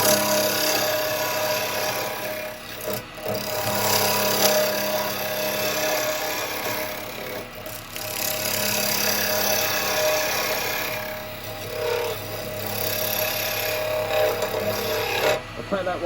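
A woodturning tool cuts a recess into the base of a yew bowl spinning on a lathe, giving a continuous rough scraping rasp with brief pauses as the tool is lifted and reapplied.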